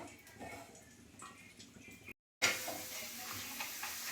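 Papad and brinjal slices fry in oil, a soft sizzling crackle with occasional stirring and bubbling, broken by a brief silent gap before the frying noise resumes louder and close.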